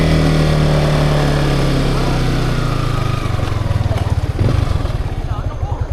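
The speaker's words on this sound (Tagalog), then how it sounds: "Si Louie sanay yan sa mga malalaking motor kasi ang motor niya dati Rouser 250." A motorcycle engine runs close and loud, first a steady drone and then a choppier, pulsing rev, with people talking nearby.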